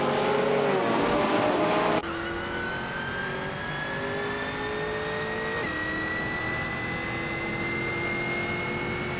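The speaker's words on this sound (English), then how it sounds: "Jordan F and Shotskis are exchanging positions for 12th, racing closely" Racing cars in a video game race, including a 2000 Alfa Romeo Giulietta TCR touring car, scream past with sustained high engine whine and rising pitch as they shift gears, loud and continuous.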